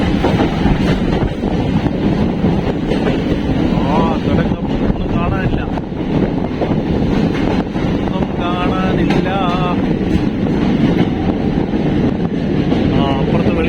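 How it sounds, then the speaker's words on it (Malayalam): A passenger train rolls into a tunnel in the Western Ghats, a loud continuous rumble and rush of wind buffeting the microphone from close by, with people talking faintly beneath the roar. "ഇവിടെ ആ തുരങ്കത്തിലേക്ക് നമ്മുടെ ട്രെയിൻ കടന്നുകൊണ്ടിരിക്കുകയാണ്"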